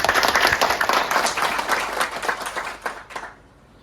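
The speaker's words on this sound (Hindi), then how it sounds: "सर के लिए ताली बजाइए" An audience at a youth leadership training session claps for a guest who has stood to greet them: dense, steady applause from many hands that thins and fades out near the end.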